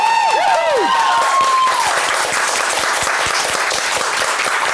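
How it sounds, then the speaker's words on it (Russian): A studio audience at a television game show applauds loudly and steadily, a dense wash of clapping under a brief swooping musical sting. "Ваши аплодисменты!"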